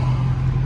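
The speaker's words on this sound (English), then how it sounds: "This car right in front of me actually sounded pretty good also." A loud, steady engine rumble from a nearby car passing, a deep continuous drone with no talking.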